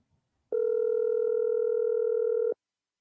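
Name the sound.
telephone ringing on a call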